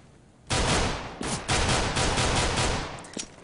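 Pistol gunfire from a P250 in a Counter-Strike match, a loud burst of rapid shots that stays dense for about three seconds and then tapers off into a last few faint pops.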